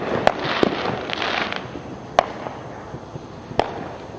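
Fireworks go off in the distance on the Fourth of July, a few dull, separated booms and pops spaced seconds apart over a faint outdoor background.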